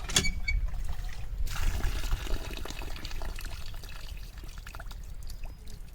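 Rice is washed by hand in water in a village kitchen, with swishing, splashing and pouring sounds that start loud and settle into a softer, continuous trickle.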